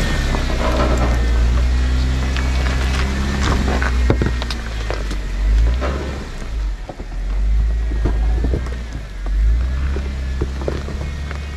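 A Jeep Wrangler JKU Rubicon crawls off-road up a rock obstacle called V-Rock, its engine a steady, close, low rumble that swells and eases as it climbs, with scattered knocks and scrapes on top and no talking.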